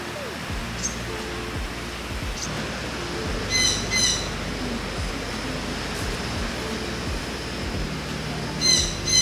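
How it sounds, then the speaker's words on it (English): A small bird, a fledgling learning to fly inside a plant nursery greenhouse, gives short high chirps in scattered bursts over a steady hiss of background noise. "It's definitely a bird."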